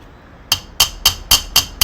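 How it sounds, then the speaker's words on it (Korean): A hammer strikes a pure copper sheet six times in a steady rhythm. Each sharp, ringing blow is close and loud over a quiet background. "동은 그 순동임에도 불구하고 이제 망치로 이렇게 두드리게 되면은 이게 금방 단단해져요"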